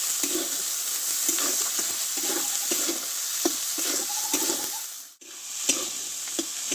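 A ground spice paste sizzles and fries in a pan under steady, repeated stirring strokes, with a brief pause before the scraping and frying continue.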